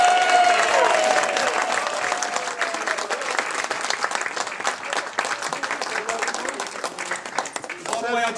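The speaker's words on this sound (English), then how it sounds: "put your hands together and give a massive cheer" Wedding guests applaud and cheer during a best man's speech, with sustained dense clapping and whoops filling the room for the whole stretch and voices shouting among the crowd.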